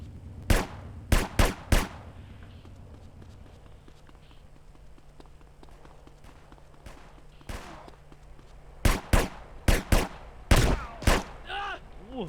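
Gunfire in the video game GTA: a few quick bursts of sharp, loud shots near the start, then a lull with faint background noise, followed by another cluster of shots toward the end.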